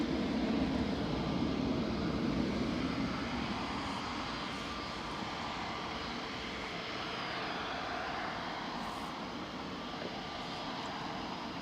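An EasyJet Airbus A320neo, six years old, lines up for departure at Manchester Airport; a continuous, fairly distant engine rumble, slightly louder at first, then settling to an even drone with no voices.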